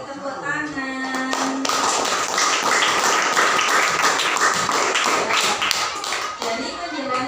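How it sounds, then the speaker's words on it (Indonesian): Students in a sixth-grade classroom clap together after a group presentation, a dense burst of hand claps lasting several seconds, with brief voices around it. "Terima kasih, beri tepuk tangan."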